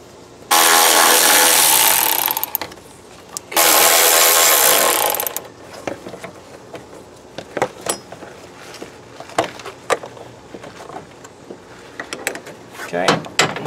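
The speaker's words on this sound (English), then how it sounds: "next up, we're gonna remove the two upper bolts that hold the top of the radiator fans to the actual top cover here" A ratchet removes the half-inch bolts holding the radiator fans to a car's top cover during a twin-turbo build. Two loud, sustained whirring bursts are followed by scattered tool clicks and handling knocks.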